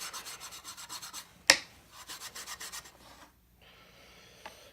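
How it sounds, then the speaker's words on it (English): Steel dividers are scrubbed by hand to take off coarse rust: rapid rhythmic rasping strokes in bursts, one sharp knock, then quieter scraping, close and alone. "I'm just going to give them a little shine up, make them smooth, get sort of the coarse rust off of them"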